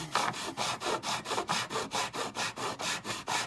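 A sanding block rubbed back and forth on wood while building a model shack wall, a steady rhythmic rasping of about fourteen even strokes, close and loud.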